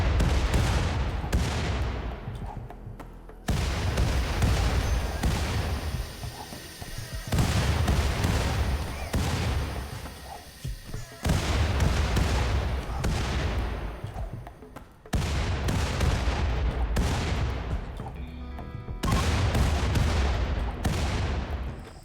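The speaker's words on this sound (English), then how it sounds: "this run we are using classic mortars" Classic mortars firing in the RimWorld video game, a run of loud booming blasts with sharp attacks and long decaying tails, repeating every few seconds over a continuous background of distant gunfire.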